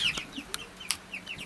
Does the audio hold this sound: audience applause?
no